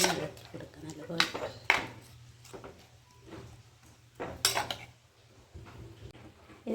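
A spatula stirs thoran in a metal pan, giving occasional sharp clinks and scrapes over a quiet kitchen background.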